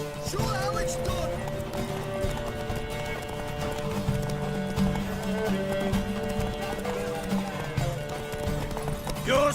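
Horse hooves clip-clop steadily through a race in The Witcher, close and loud, with a neigh early on and a voice talking over the galloping.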